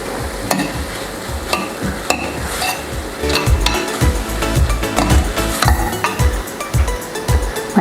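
Butter garlic mushroom roast is stirred in a pan with chopped coriander, a steady sizzle broken by repeated scraping and clinking of a spoon against the pan, close and fairly loud, with no talking.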